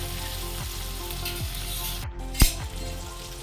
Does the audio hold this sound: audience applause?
no